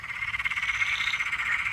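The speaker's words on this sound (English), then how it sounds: "that's a little Peron's tree frog" A small Peron's tree frog croaks at night in a rapid, steady rattling pulse, close and fairly loud, with no other sounds around it.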